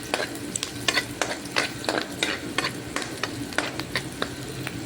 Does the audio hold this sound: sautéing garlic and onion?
yes